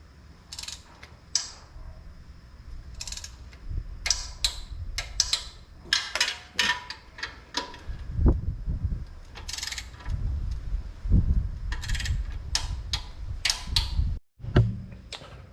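A ratchet tightens the bolts on a Vance and Hines 2-into-2 exhaust fitted to a Harley Dyna Low Rider. Bursts of rapid clicking come up close and are separated by short pauses, with a few duller knocks and no talking.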